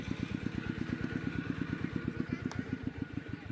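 A repaired farm tractor engine running steadily nearby, a rapid even low chugging beat with a rattly clatter, alone with no voices.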